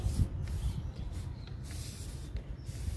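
A neem oil blend is sprayed on vegetable plants against a mealybug attack, producing soft, close hissing bursts separated by several brief stops.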